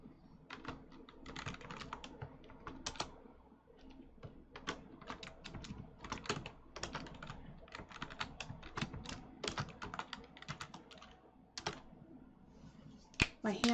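Rapid, uneven keyboard typing on a computer keyboard during a Minecraft-style gaming session, close and steady with clustered bursts of keystrokes and short pauses throughout.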